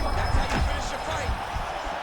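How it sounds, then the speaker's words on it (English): A fight crowd reacts to strikes exchanged in a bout: a loud roar and burst of crowd noise swelling briefly, with a commentator talking over it. "And you hear the crowd react every time they come together because they understand."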